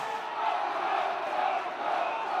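A large crowd at a political rally roars and cheers in a steady, continuous wash of many voices, dense and sustained without pause.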